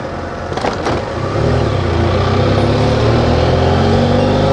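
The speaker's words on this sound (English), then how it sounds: "Let's see if I can beat this truck." A truck on a road in Argentina, its steady engine drone swelling and holding loud and close as it drives alongside, with no talk over it.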